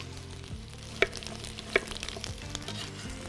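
Apple and potato pieces sizzling in butter in a pan, a soft steady fry under a low background hum, with two sharp utensil clinks against the pan partway through.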